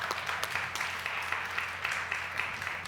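A congregation at a church service claps in sustained, dense applause with no break, a moderately loud wash of many hands.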